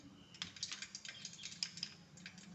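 Mustard seeds dropped into hot oil in a home kitchen, cooking a dry green-chili bottle gourd dish, give rapid irregular crackling pops, a dense close patter of small bursts over a low background hum.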